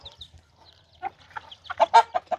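A chicken clucks in short, sharp bursts that grow louder and quicker toward the end, standing alone against quiet background.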